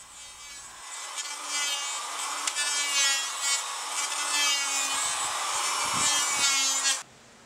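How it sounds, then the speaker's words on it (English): Hand planer smoothing bare wood after old paint has been stripped off, a steady close rasping scrape running for about six seconds before stopping abruptly. "A carefully operated planer will give you a nice finish when you've stripped off all the"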